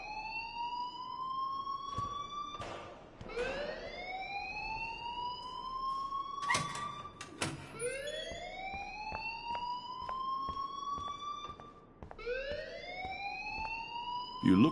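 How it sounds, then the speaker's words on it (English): A fire alarm in the Life is Strange video game whoops repeatedly in rising electronic sweeps, loud and steady, with sharp clicks between cycles and a faint voice in the background. "please turn off that alarm since that's your job"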